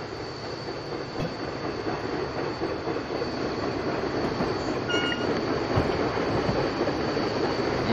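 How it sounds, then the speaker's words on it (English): Passenger train rolling past in the Train Simulator 2016 game at Naperville, a steady broadband rail roar of wheels and carriages with a faint high whine, continuous and fairly close with no talk. "you got the passenger train coming."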